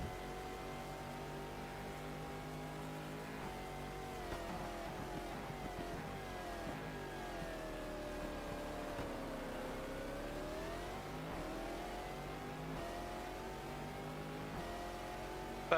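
A race car engine drones in a racing video game during the 12 Hours of Sebring, holding a steady tone that dips and climbs again as the car slows for a corner and accelerates away, heard alone at a moderate level.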